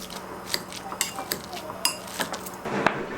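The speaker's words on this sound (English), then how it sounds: "Mash up 3 boiled eggs" A fork mashing three boiled eggs in a bowl, giving light scattered clinks and scrapes of metal against the dish, close and fairly quiet.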